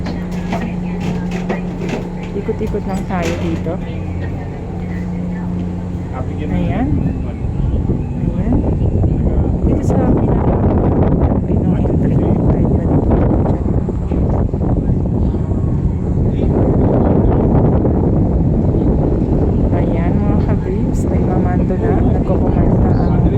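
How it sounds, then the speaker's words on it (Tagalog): Strong wind at Balanacan Port, Marinduque, roars and buffets the microphone continuously, a loud broadband rush that swells heavier after the first few seconds and never lets up. "napakalakas po ng hangin ngayon"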